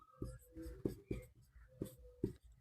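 Pen or chalk scratches out a math solution in quick, uneven strokes and taps, faint and close, with short pauses between marks.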